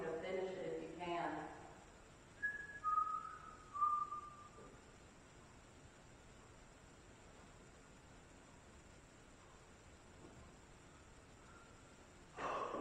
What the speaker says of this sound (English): I'm going to whistle a tune and I want you to finish it if you can.